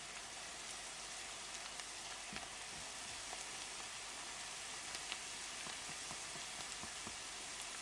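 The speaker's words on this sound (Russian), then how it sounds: "Обжариваем наш лук до золотистого цвета." Onions and vegetables sizzling in a pan for soup, a steady close crackle and hiss of frying with occasional pops and light stirring, no talk over it.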